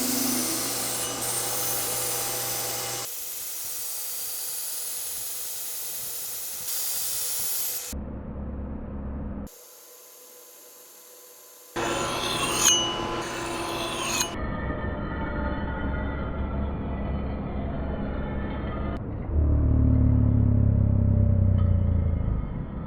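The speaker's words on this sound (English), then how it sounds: "we're just gonna get them sharpened up" Hand-forged tomahawks made from hammers are sharpened with a power tool, giving loud, harsh grinding and rumbling in separate bursts broken by abrupt cuts and brief near-silent gaps.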